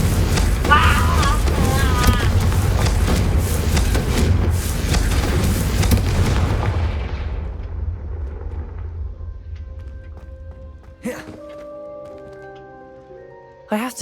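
Confringo fire spell blasts in the video game Hogwarts Legacy: a loud, dense roaring burst for several seconds that fades into a rumbling tail, followed by a few short chiming interface tones.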